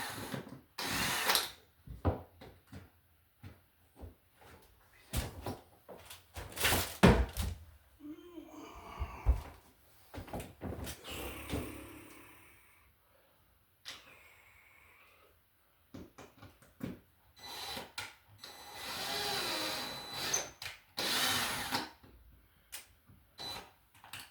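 A power drill drives screws into sheetrock while a two-light vanity light is mounted, heard as short close whirring bursts separated by pauses, with clicks, handling knocks and a few brief spoken words in between.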